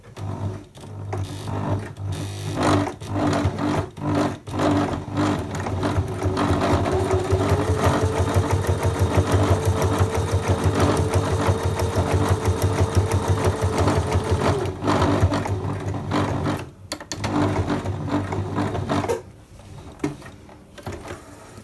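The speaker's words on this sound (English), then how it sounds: "Then I'm going to do the same distance of edge stitching on the other side just to make it look like it's supposed to be." Sewing machine edge stitching a bag strap, running in close, rapid bursts with short pauses and one long continuous run in the middle.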